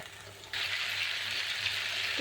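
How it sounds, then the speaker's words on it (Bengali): Meat sautéing in a pan: a steady, close hiss of frying begins abruptly after a brief quieter moment and continues evenly, with no talk. "এই যে মাংস কষাইতেছি"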